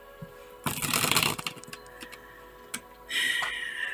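Tarot cards drawn and shuffled from a deck, with a couple of short riffling bursts and a few light card ticks, close up, no talk.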